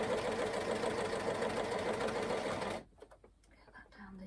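A sewing machine runs steadily at moderate speed, stitching the elastic waistband of pyjama bottoms, loud and close for most of the stretch before stopping abruptly, followed by faint handling noises.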